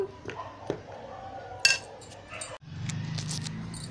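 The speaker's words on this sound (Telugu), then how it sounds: "చూడండి పచ్చడి డబ్బాలో వేసేస్తున్నాను." Cauliflower pickle being spooned into a jar: quiet clinks and knocks of a spoon against the container, with a sharper clink partway through and a soft rumbling scrape afterward.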